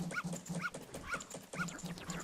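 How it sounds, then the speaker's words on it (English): A dog in the video game Zelda: Majora's Mask gives four short, evenly spaced yips or whimpers over a steady low game hum, fairly close and moderately loud. "Go away, Mr. Dog."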